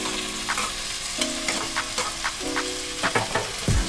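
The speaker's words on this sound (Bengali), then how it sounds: "ভেজে রাখা চিংড়ি মাছ দিয়ে বেশিক্ষণ কষাবো না, হালকা করে একটু এদিক ওদিক নাড়াচাড়া করে" Fried prawns being stirred into a thick banana blossom curry in a pan, a spatula scraping repeatedly through the sizzling mixture with a steady crackle and occasional sharper clinks, close and clear with no talking.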